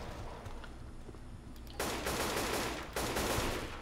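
M4 assault rifle firing in Left 4 Dead 2, heard as loud, sustained automatic bursts: two long dense volleys close up, after a quieter stretch of background game noise.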